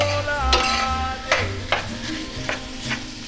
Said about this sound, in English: And I'm going to give it a good stir.